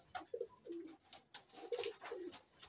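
Pigeons coo softly at a loft, with several short murmuring coo calls repeating in a loose rhythm, fairly close and quiet, with no talking.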